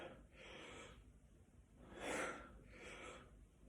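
A person draws audible breaths during a weight exercise targeting the shoulder and upper back: three breathy rushes of air close to the mic, the middle one loudest, with no talking.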